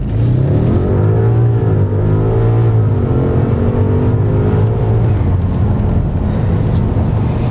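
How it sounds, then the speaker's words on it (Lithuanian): An Audi A8 accelerates at full throttle from a crawl, heard from inside as a loud, steady engine roar with rising and shifting pitch sweeps, no talk over it. "Ir dabar aš greitį susimažinsiu iki minimumo ir akceleratorių nuspausiu iki pat dugno"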